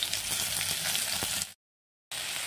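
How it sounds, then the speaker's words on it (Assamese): Ginger, garlic, onion and two green chilies fry in hot oil for an ash gourd leaf and fish bhorta, giving a steady close sizzle that cuts off abruptly, falls silent briefly, then resumes. "এতিয়া দি দিলোঁ আদা নহৰু পিঁয়াজ আৰু কেঁচা জলকীয়া দুটা, এইখিনিও ভাজি ল'ম"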